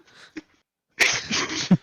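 A person gives a sharp, close sneeze with a faint sniffing inhale before it and a noisy burst and trailing breath after.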